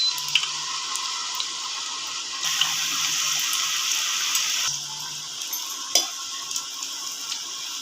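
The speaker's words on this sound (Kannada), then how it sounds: "ಈಗ ಎಣ್ಣೆ ಕಾಯ್ದಿದೆ ಈಗ ಇದನ್ನು ಒಂದೊಂದಾಗಿ ಕರಿಯೋಣ" Badam puri sweets deep-fry in hot oil, giving a steady bubbling sizzle with small clinks and scrapes, loud and close with no talk.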